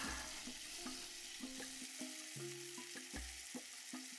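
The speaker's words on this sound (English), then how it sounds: "Now let the mushroom cook for some minutes, but occasionally we would have to stir the mushrooms" Mushrooms cook in a pan for a creamy vegetable pasta, giving a low, soft sizzle. A spatula stirs them every so often with dull scraping knocks and tonal clinks.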